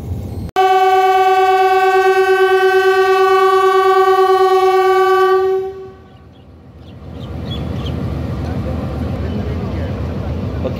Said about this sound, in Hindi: विसल हो चुका है